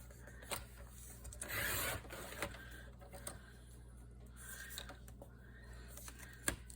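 Paper is cut for a handmade journal: one longer rasping cutting stroke stands out amid quieter taps and small handling clicks, faint and close, with no talking.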